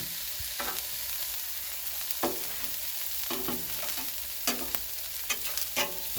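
Oil sizzles on a Blackstone griddle while a spatula stirs and scrapes, soft steady frying hiss broken by several quick metallic scraping strokes.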